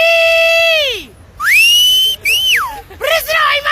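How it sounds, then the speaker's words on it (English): A woman whistles loudly and confidently in a public place in Nairobi: a long held note sliding downward, a pause, then rising and falling swoops and a final burst of short trills, all clear and close with no talk. "She stood in public places and whistled loudly and confidently"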